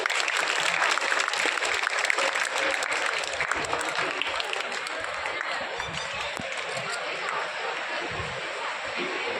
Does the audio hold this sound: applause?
yes